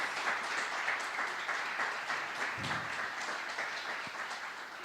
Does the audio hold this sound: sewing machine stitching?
no